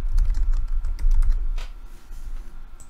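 Quick, steady typing on a computer keyboard as a payment plan name is entered on a course-selling platform, a fairly loud and close run of clicks that thins out toward the end.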